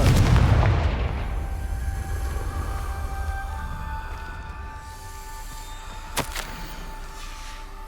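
A Confringo explosive spell goes off in the Hogwarts Legacy video game with a heavy, booming blast up close. The rumble fades into a sustained ringing tone, and a sharp crack follows near the end.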